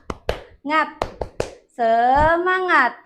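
Sharp hand claps from a teacher leading a classroom cheer, four quick spaced claps followed by a sung or chanted voice, with clapping and speaking alternating closely and heard up close.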